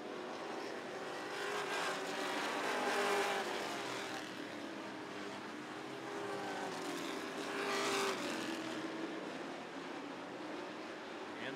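Race cars roaring around Rockford Speedway during a Sportsman division race, a dense steady wall of engine noise that swells as cars pass nearby, with no break in the drone.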